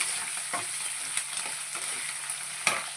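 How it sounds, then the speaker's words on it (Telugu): Cashews and slit green chillies frying in oil in a pan, a continuous bright sizzle with scattered spoon scrapes and taps, near and without speech. "ఇంకొంచెం వేగాలి"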